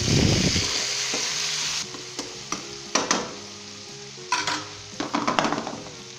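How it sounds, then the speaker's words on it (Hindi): Tomatoes and spices frying in a pan for a potato and cauliflower curry: a loud burst of sizzling at the start fades into quieter frying, with sharp clacks of a spoon stirring and soft background music. "अब हम इसके अंदर टमाटर शामिल करेंगे। सारे स्पाइस शामिल करेंगे और मिक्स कर लें।"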